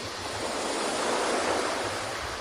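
Steady ocean waves wash in a continuous, broad rushing hiss, full and close, with no breaks or voices.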